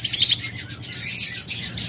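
Locally bred pet birds, lovebirds, budgerigars and cockatiels offered for sale, chirp and tweet in a busy run of quick high calls, near and fairly loud, overlapping throughout.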